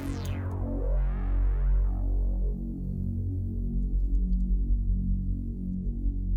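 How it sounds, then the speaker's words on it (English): A deep synth bass drones and throbs, starting with a bright swept attack that quickly fades into a sustained, pulsing low tone. "this is just a synth bass which I recorded off of my synth"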